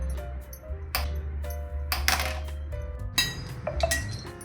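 A metal kadhai is set on a home kitchen stove, giving a few sharp clinks and clanks with brief ringing, spaced irregularly over a low steady hum.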